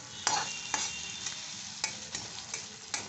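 Fish roe frying in a hot pan, with a continuous close sizzle and sharp popping splatters at irregular intervals, no voices present.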